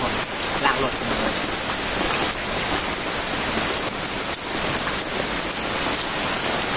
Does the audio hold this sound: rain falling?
yes